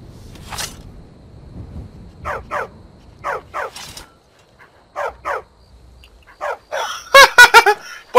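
A dog in Skyrim gives a run of short barks in pairs and small clusters, fairly close and distinct, ending in a louder burst of several quick barks.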